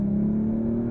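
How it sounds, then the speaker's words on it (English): A 2022 Audi RS5 Sportback engine holds a steady, droning hum on a downshift for about a second, heard from inside the car. "Ooh, I do like the downshifts."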